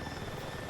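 Helicopter in the video game Battlefield 6: a close, loud, rapid rotor chop with a dense engine roar, steady across a brief moment.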